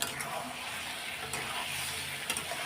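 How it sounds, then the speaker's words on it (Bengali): Spices are stirred and fried in a pan for a Bengali home-cooked potato and paneer curry, giving a soft, continuous sizzle with a few scraping stirs, faint and close. "এই হচ্ছে মশলা কষানো।"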